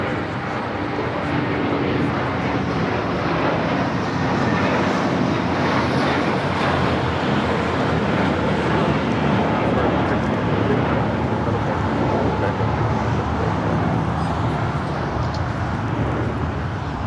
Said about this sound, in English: American Airlines heading to Dallas, Fort Worth, Texas, flight 1658